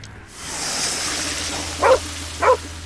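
In the hidden-object adventure game Nightmares from the Deep 3, a puppy gives two short, clear barks near the end, after a soft whooshing game ambience.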